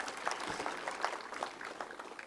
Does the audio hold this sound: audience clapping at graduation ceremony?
yes